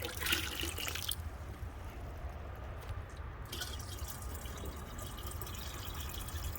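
Water trickles and splashes steadily from a container onto garden soil, a continuous close pouring sound with no talking.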